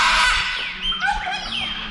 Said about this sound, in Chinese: 那个声音呢，就是金刚鹦鹉的叫声